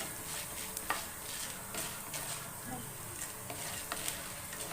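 Chana dal frying in a pan gives off a faint, steady sizzle with occasional small crackles and stirring ticks, low in level throughout.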